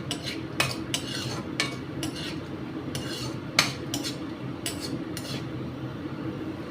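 Cashews sizzle gently in ghee in a pan while a utensil stirs them, scraping and clinking against the metal in irregular bursts. No one talks.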